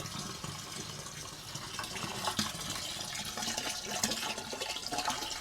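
Water gushes steadily from the hose of an 18v battery-powered stick pump used for water transfer, a continuous close splashing flow with no talk.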